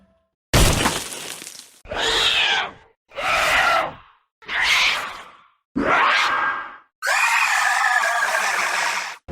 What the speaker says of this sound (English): The shriek of a denizen.